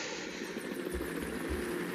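A helicopter in F.E.A.R. gives a steady, close rotor and engine roar with a continuous broadband whir and a low rhythmic thump throughout.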